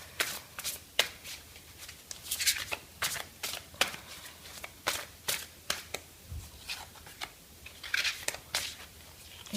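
A deck of tarot or oracle cards is shuffled for a weekend card reading, giving a close, steady run of crisp riffling and slapping bursts with brief pauses, and no talking over it.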